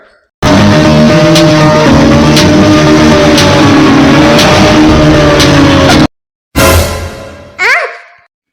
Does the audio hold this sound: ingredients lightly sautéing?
no